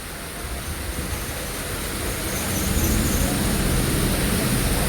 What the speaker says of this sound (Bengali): দেখো বৃষ্টিতে ট্রেন ঢুকছে দেখো।